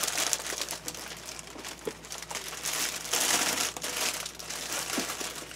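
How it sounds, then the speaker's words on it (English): Crinkling and rustling of a sheet of 100% recycled cotton rag paper, gelatin sized, being handled and folded, with continuous close crackling and crumpling and no voices. "Sorry for the rustling."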